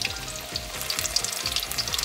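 Battered saury fish deep-fries in oil at about 180 degrees, crackling and sizzling steadily up close with dense popping bubbles and no voices.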